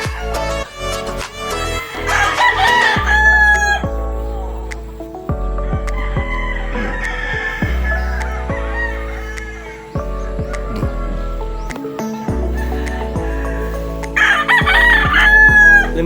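Gamefowl roosters at a backyard gamefarm crow loudly and close, with several long drawn-out calls overlapping and following one another, plus some clucking between them.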